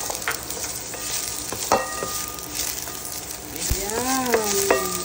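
Garlic and onion sautéing in a pan for shrimp in coconut milk, a constant hiss of frying with clinks and scrapes of a spatula and a brief whistling tone near the end, with no voices.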